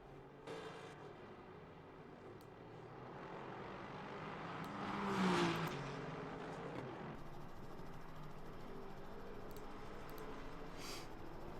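Race cars in a sim racing game on the Bahrain circuit sound faint and distant, their engine drone swelling briefly as one passes midway before settling back to a low steady hum.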